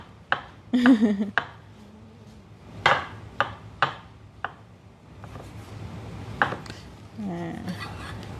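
A knife slices champignon mushrooms for a vegan creamy mushroom soup, giving a run of crisp cuts and taps on a board. Someone murmurs briefly between the cuts.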